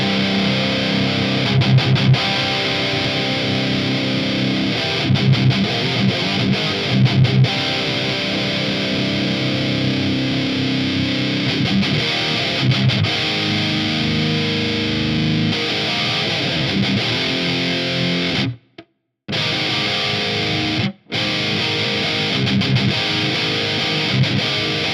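Electric guitar through an ENGL Fireball 60 amp with a scooped, heavily distorted high-gain tone plays loud, chugging riffs with sustained chords and two brief abrupt silences near the end.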